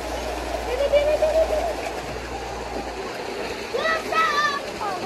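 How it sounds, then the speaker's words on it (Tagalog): Water flows steadily into a mini pool at a resort, a constant rushing wash that continues under excited voices talking nearby. "Ito pala yung tubig na naagos na punta doon."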